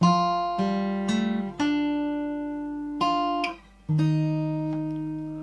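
Guitar playing the closing two bars of a piece from The Last of Us Part II, a handful of plucked notes and chords, each ringing out and decaying clearly, with the final hit of two notes together sustaining alone.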